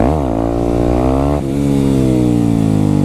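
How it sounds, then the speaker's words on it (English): A Yamaha WR250X motorcycle engine revs hard during a wheelie, its pitch climbing, dipping briefly at a gear change, then rising steadily again. The engine is loud and close, with no talk over it. "Clutch in, throttle up, release the clutch, and then ride it out for a little bit."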